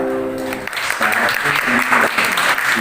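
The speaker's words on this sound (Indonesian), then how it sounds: "Iya, tepuk tangan buat semuanya." Applause rises after a sustained tone and continues through the rest, steady and fairly loud, with a voice speaking faintly over it, closing an Indonesian class lesson on Muhammadiyah leaders.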